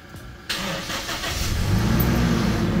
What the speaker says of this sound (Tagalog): try na natin i-start tong dead battery, ano, yung patay na sasakyan